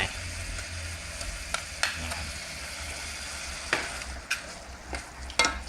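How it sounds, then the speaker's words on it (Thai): Pounded boiled chilies simmer and are stirred into a pot of Thai coconut-milk curry sauce for khanom jeen, a soft bubbling sizzle with occasional sharp clinks of a spoon against the pot. "แล้วก็เคี่ยวสักพักหนึ่งก่อน"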